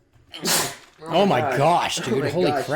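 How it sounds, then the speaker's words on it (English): A single sharp sneeze bursts out near the start, followed by a few moments of excited talking and exclaiming from people close by. "That was a sneeze, if you couldn't tell."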